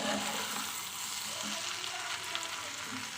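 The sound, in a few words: fish oil and egg frying in a pan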